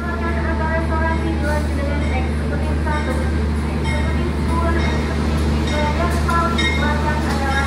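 At an Indonesian station, the Kertanegara passenger train from Malang to Purwokerto arrives with a steady, low mechanical rumble and hum that continues throughout, with voices talking over it.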